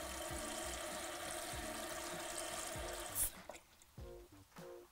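A toilet cistern refills through a Fluidmaster fill valve, a steady hissing rush of water that cuts off partway, leaving faint drips and gurgles in a quiet bathroom.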